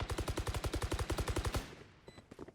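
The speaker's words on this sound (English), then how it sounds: "Shots going through the wall, trying to wall bang." Rapid automatic gunfire in a video game as shots punch through a wall, about twenty evenly spaced cracks in a fast steady rhythm, then a few fainter scattered shots after a pause.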